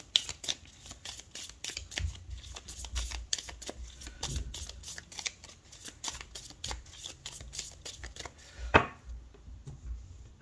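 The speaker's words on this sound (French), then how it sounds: "Alors, à la coupe" Tarot cards are shuffled and cut by hand in a close, quiet run of rapid riffling flicks and soft slaps, with brief irregular pauses and a sharper snap near the end.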